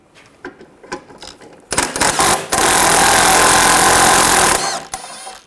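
Loud, steady mechanical rattle of a power tool spinning nuts off a 13mm socket under a 2013-2022 Chevrolet Trax 1.4L near the parking brake cable, running about three seconds after a few short clicks, then stopping.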